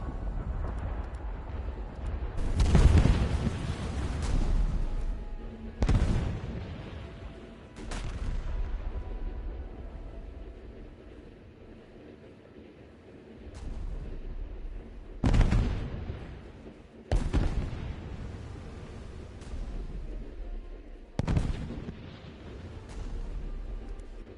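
Naval main cannons fire in the War Thunder video game, sounding as about six heavy booms spread irregularly across the clip. Each blast is loud and sharp and fades out in a long rumbling tail.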